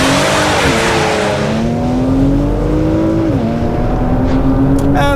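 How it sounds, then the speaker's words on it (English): A 2024 Porsche Macan GTS with a 440-horsepower V6 bi-turbo launches hard on launch control, its loud engine note climbing steadily through a gear change and pulling up again, recorded from inside the car with no talk. "V6 bi-turbo engine, 440 horsepower, 550 newton meters of torque."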